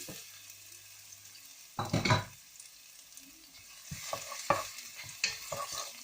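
Quiet sizzling in a hot pan flares up as garlic is dropped into the oil, followed by scraping stirs and continued frying.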